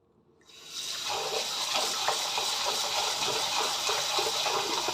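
Soybeans being washed in water for homemade tempeh: a steady rush of running, splashing water that swells in after a quiet start and continues alone.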